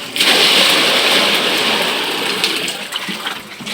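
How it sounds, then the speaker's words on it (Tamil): Water gushes steadily and loudly into a fridge box being filled during cleaning of a large fish tank holding koi and sharks, a close, continuous rushing that eases slightly toward the end, with no talking. "பக்கத்தில் இருக்கிற ஃப்ரிட்ஜ் பாக்ஸில் தான் தண்ணி ஃபில் பண்ணி விட்டு கழுவிட்டு ரிட்டன் இதில் விட போகிறோம்"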